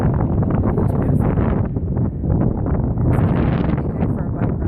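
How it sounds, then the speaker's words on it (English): Wind buffets the microphone during a bike ride on an early spring day, a loud, continuous low rumble with gusty swells and faint rustling, no voice over it. "It's kind of a windy day for a bike ride"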